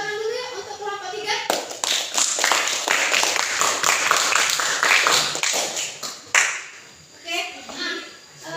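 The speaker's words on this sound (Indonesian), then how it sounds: "Beri tepuk tangan dulu ya untuk kelompok 3." A classroom of people claps together for several seconds for a group presentation, dense and lively, then the applause thins out into scattered claps as it fades.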